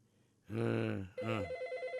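Telephone ringing for a radio call-in show, two loud electronic rings in quick succession followed by a pulsing tone, with no voices.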